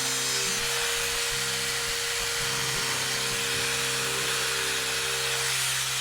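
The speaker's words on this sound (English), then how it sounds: "I can get my jigsaw out and just cut that out nicely" Jigsaw cutting vinyl click laminate flooring for a kitchen, a steady buzzing saw drone held for the whole stretch, close and fairly loud, with a low motor hum underneath.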